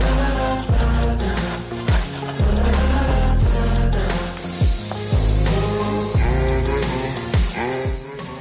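Scraping marine growth off boat hulls out of the water to prepare for new anti-fouling, loud close repeated rasping strokes with sharp ringing scrapes in an uneven rhythm, no talk.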